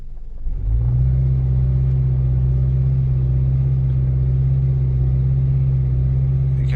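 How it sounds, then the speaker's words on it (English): A Nissan X-Trail T30 engine held in drive against the brake rises from idle to a steady, raised-rpm drone with a deep, even rumble and no stumbles. It is heard up close, with no talking. "If we brake torque it, put it in drive, foot on a brake, accelerator, show you, doesn't misfire."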